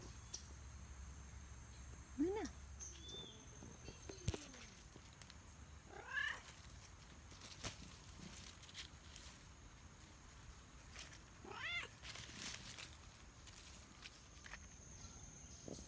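Cats meow and yowl intermittently at moderate distance over a faint outdoor backdrop of chirping crickets and insects, with occasional soft footsteps.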